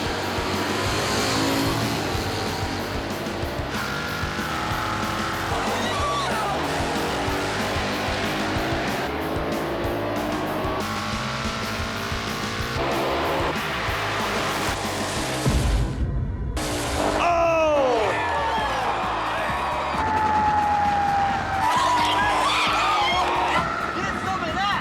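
At a four-wide drag strip, a 1991 Mustang and a 1973 Duster race in a final, engines roaring hard with squealing tires and a pass-by swell, while a commentator talks over much of it.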